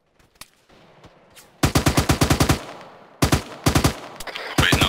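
Automatic weapon fire in rapid machine-gun bursts, two long loud close strings of shots separated by a pause, with a few isolated single cracks at the start and a further burst at the end.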